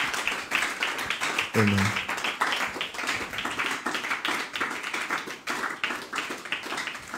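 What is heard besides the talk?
congregation clapping for Jesus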